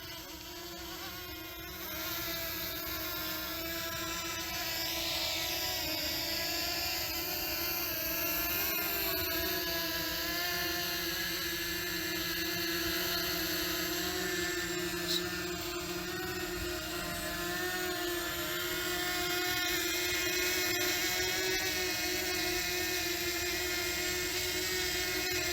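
A DJI Mavic Mini drone descends in wind toward a landing pad, its high, steady propeller buzz close and continuous with no talk.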